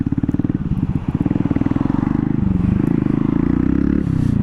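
A Honda Grom fitted with a modded oil pump and stiffer clutch springs, ridden through traffic: a loud, close single-cylinder putter with rapid pulsing exhaust that rises and settles as the throttle changes.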